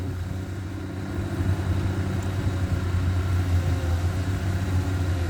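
Tractor engine chugging steadily at close range while working through soft, sticky mud in hot weather, a continuous low rumble with no talk over it.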